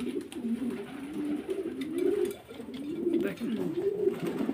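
Roman pigeons, a breeding pair, cooing close by in a loud, rolling, repeated rhythm, with someone briefly speaking over them.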